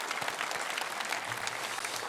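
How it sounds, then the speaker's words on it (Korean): A church congregation claps together during a Sunday worship service, a soft, fairly distant patter of many hands that runs evenly throughout without speech. "박수로 우리 축하하겠습니다."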